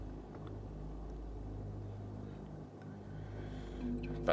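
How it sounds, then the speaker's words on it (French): A low, steady engine rumble of a car approaching at a port, continuous throughout and swelling slightly toward the end, with no talk over it. "C'est la voiture d'Hélène."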